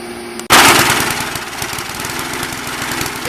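A Briggs & Stratton lawnmower engine with a newly replaced carburetor starts up abruptly and runs loud and close, settling into a fast, rough, steady putter with no voices.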